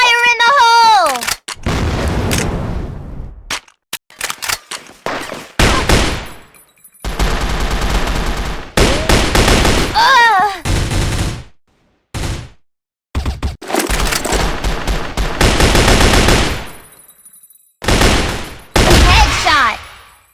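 FN FAL rifle gunfire in a video game: loud, close bursts of rapid shots broken by short silent gaps, with a brief tonal game sound at the start.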